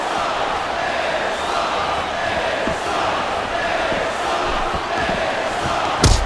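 A wrestling arena crowd in the WWE SmackDown vs Raw 2008 video game roars and cheers in a constant loud wash, with a sharp slam-like hit near the end.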